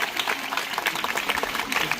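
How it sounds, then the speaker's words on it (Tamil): Audience applause at a silambam martial arts awareness rally event, a steady wash of many hands clapping at moderate volume, sustained without breaks. "சிறந்த கைத்தட்டலை இடைவிடாமல் ஒரு நிமிடம் அடித்துக் கொள்ளுங்கள்"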